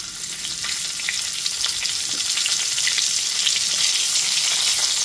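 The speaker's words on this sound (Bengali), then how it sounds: "ওই একই তেলের মধ্যে একটু বড় সাইজ করে কেটে রাখা ফুলকপি টুকরোগুলোকে দিয়ে দিচ্ছি" Large cauliflower pieces, washed and drained, dropped into hot oil already used for frying potatoes, giving a loud, dense, steady sizzle that swells slightly and holds, with no speech.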